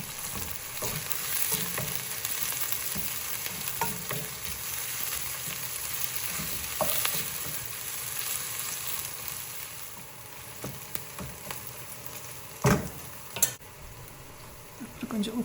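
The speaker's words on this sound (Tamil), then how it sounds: "நல்லா வதக்கிடணும். ரொம்ப பொரிய வேண்டாம்." Onions and curry leaves sauté in a pan over low-medium heat for a spicy prawn curry, giving a steady, close frying sizzle throughout with occasional stirring clicks and scrapes.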